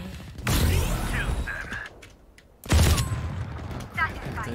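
Automatic gunfire in Valorant comes in two long, loud bursts of rapid shots, close and sustained, with a short near-silent gap between them and faint chirping game effects over the firing.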